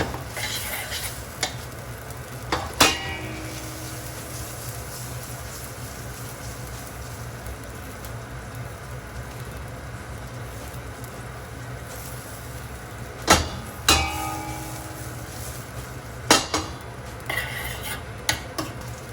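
Spaghetti finishes cooking in a guanciale sauce, stirred in a pan under a low steady sizzle, with occasional sharp scrapes and clinks of a utensil against the metal spaced through the stretch.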